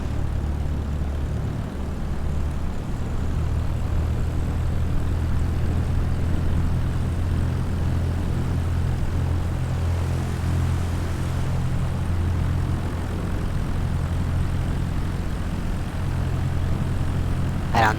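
Propeller airplane taking off in Microsoft Flight Simulator 2020 near Honolulu, a steady loud droning engine roar with a low hum holding throughout, no voices.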